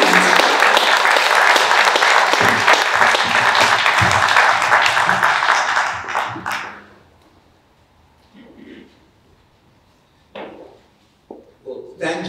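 A lecture audience bursts into loud, sustained applause to welcome speaker Anthony Paul Farley, the dense clapping filling the room for about six seconds before fading into near quiet with a few faint rustles.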